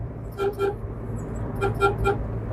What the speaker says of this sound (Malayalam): ഇങ്ങനെ ഹോൺ അടിച്ച് അപ്പൊ അവരൊന്ന് ശ്രദ്ധിക്കുക